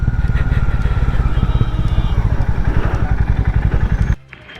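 A motorcycle engine chugs steadily nearby as the bike is ridden slowly, then the sound cuts off abruptly when it stops to park.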